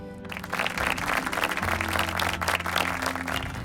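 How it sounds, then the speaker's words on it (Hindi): Audience applause welcoming a team at a national family Bible quiz, a dense, steady clatter of many hands with a low electronic hum beneath, holding strong for several seconds. "तो जोरदार तालियों से उनका स्वागत कीजिए।"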